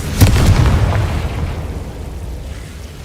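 A Confringo fire-blast spell in the Hogwarts Legacy video game bursts with a loud, close boom at the start, its deep rumble slowly fading away over the next few seconds.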